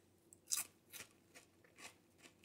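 Several crisp crunches from biting and chewing brittle, well-browned crackers, close up and fairly quiet, spaced irregularly with no talking.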